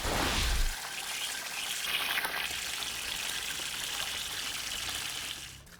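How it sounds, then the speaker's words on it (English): Pump-fed bubbling rock water feature with copper tubing, the jet shooting too high, making a steady close splashing and trickling rush that holds evenly throughout. "Now, as you can see, the water is shooting far too high."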